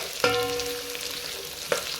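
Pre-cooked beans and vegetables are stirred in a pot, a soft bubbling simmer with two brief scraping clinks of a utensil against the pot.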